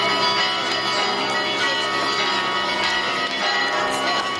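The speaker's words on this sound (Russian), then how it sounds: "В ночном небе плыл над Астраханью колокольный звон." Orthodox church bells ringing out over Astrakhan on Easter night, a dense sustained metallic bell tone filling the air, loud and continuous.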